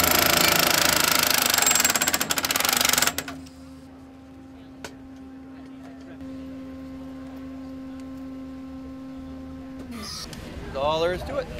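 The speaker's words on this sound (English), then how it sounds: "these are advanced by a hammer that pounds it into the ground" Drill rig hammer pounding a soil sampler into the ground at a brownfield cleanup site on a city avenue: loud, rapid mechanical hammering for about three seconds, then a steady engine hum with someone speaking near the end.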